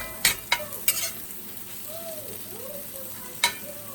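Puffball mushroom slices frying in butter in a pan, a quiet sizzle under a few sharp clanks and scrapes of a utensil stirring and turning them.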